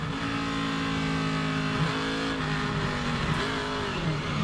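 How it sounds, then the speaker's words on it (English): A race car engine roars at high throttle on a racetrack, its tone wavering up and down as it revs, loud and continuous with no voices. "You can hear the throttle."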